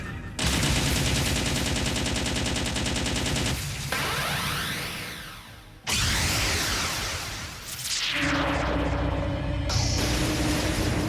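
Rapid machine-gun fire in Trails of Cold Steel, long dense loud bursts of rattling shots broken by short gaps and whooshing effects, with no talking.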